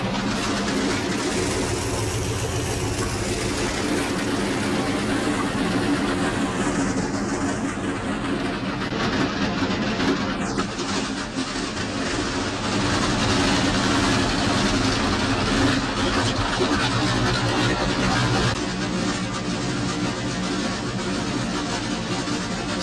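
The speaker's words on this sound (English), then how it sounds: "let's start engine number one" Convair XC-99 bomber in X-Plane 11, piston engine starting up and settling into a steady low idling drone, with a whining sweep early on, continuous and unbroken throughout.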